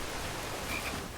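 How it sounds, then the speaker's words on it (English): A frog croaks in King's Quest, a short soft croak over a noisy, rain-like background, with no talking. "Hello, frog."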